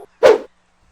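A dog gives a single short, sharp bark, close and clear against silence.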